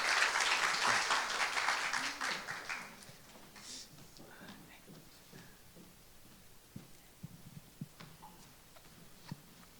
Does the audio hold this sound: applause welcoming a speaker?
yes